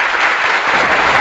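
Studio audience applause on the quiz show Kaun Banega Crorepati, a dense, loud, steady burst of clapping from a crowd.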